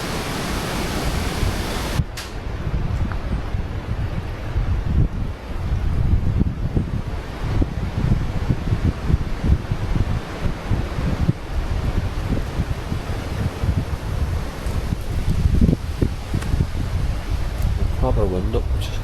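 Strong wind outdoors at night buffets the microphone with a loud, continuous roar that rises and falls in gusts, and a voice is heard briefly under it.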